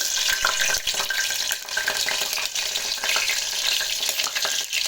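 Green chillies frying in oil for a mutton curry give a loud, steady sizzle that runs without a break, with stirring scrapes and clatter mixed in and no voices.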